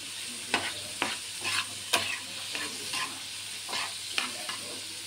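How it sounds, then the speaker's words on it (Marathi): Ridge gourd and onions sautéed over high flame, with a steady sizzle broken by repeated sharp scrapes and clacks of a spoon against the pan, close and fairly loud, no talking. "कांद्यासोबतच याला छान असं परतवून घ्यायचं। थोडंसं गॅस फास्ट करूनच परतवून घ्यायचं।"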